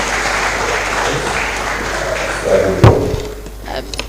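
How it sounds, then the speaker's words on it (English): Audience applause at a college of engineering freshman orientation, a steady wash of clapping with a thud near the end as people take their seats, voices mixed in. "Can we give them a round of applause as they take their seat?"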